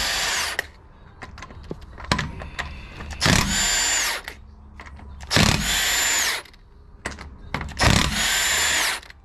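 Snap-on power tool spinning off axle bolts on the rear brakes of a 2012-2016 Ford F-450 cab chassis, in loud sustained whirring bursts of about a second each, separated by clanks and rattles of metal parts.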